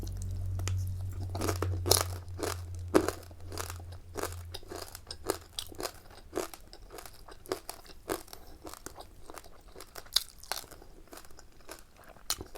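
Crunchy Thai pork crackling chili paste being eaten, with rapid irregular close crunches and chewing bites repeating throughout, sharp and crisp, with no talking.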